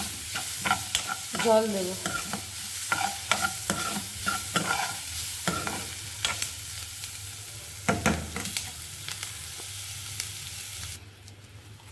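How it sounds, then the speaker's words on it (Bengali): Chicken stirred and frying in a pan, with soft sizzling under repeated scraping and clinking strokes of a utensil, fairly quiet; a voice speaks briefly. "চিকেনটাও দিয়ে দিয়েছি, একটু নাড়াচাড়া করবো"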